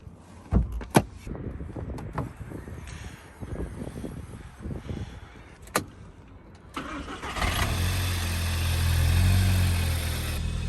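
An Audi TT TFSI engine swapped into a MK5 Golf GTI cranks and fires, then settles into a steady idle after some clicks and clunks from inside the car, the hum close and even.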